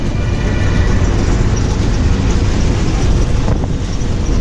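Dense city traffic in Ahmedabad near metro construction work, a steady loud roar of engines and road noise that never lets up, heard from within the flow of vehicles.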